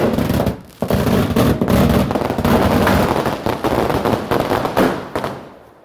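Kite-festival firecrackers burst in a rapid, dense chain of sharp cracks, loud and close, with a brief gap near the start before the crackling resumes and fades out at the end.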